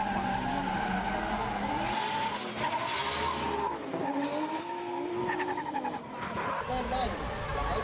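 Drift race cars skid around the track, with continuous tire squeal and revving engines at a distance, while a commentator talks over the action.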